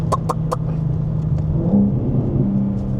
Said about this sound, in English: It sounds like thunder, this car, when it does that gurgle.